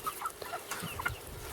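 Six-week-old chicks, Cornish Cross meat birds alongside Red Rangers and standard breeds, cheep and peep in a flock, with several short high chirps over a soft rustling background, close by.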